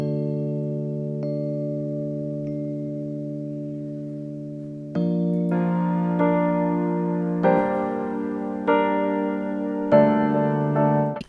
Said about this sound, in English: The first one being this electric piano.